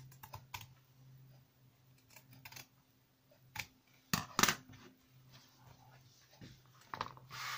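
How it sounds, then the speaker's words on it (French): Scissors cutting through cardboard, a scattering of faint crisp snips and crunches with a couple of sharper cuts in the middle, close and quiet against a low hum. "je vais le couper au ciseau"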